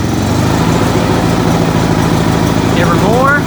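A small engine idles steadily close by, an even buzzing drone with no throttle change, and a brief squeaky whine near the end.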